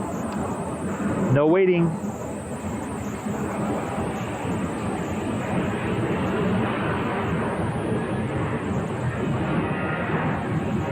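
Jet airliner rolling for takeoff on runway 25 right at Phoenix, a steady broad engine roar that holds at an even level throughout, with a brief radio voice near the start.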